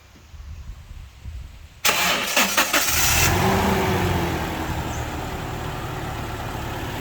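A 2008 Toyota Innova diesel engine cranks for about a second with a rapid chugging starter, catches, then settles into a steady, close, rumbling diesel idle.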